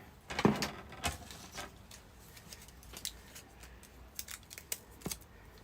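Scissors snip through a sheet of pink canvas card in a few short, crisp cuts spaced over several seconds, close and fairly quiet with no talking.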